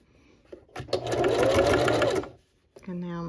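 A home sewing machine stitches a T-shirt baby quilt in one close, steady whirring run of about a second and a half, bracketed by soft handling noises, then a brief spoken word at the end.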